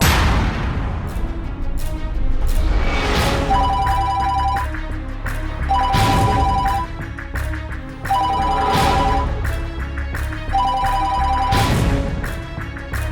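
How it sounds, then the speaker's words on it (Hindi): A telephone rings in repeated bursts, its tone recurring every couple of seconds beneath loud, booming dramatic music. "और फिर आने वाली टेलीफोन कॉल ने इसे ये बता दिया कि साबिर बाहर मौजूद है।"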